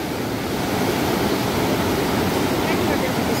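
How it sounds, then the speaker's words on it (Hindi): The Parvati River rushing below Manikaran in Kullu, Himachal Pradesh, a steady broadband roar of fast water heard throughout, loud and continuous. "यहाँ से पार्वती नदी देखो कितनी प्यारी लग रही है"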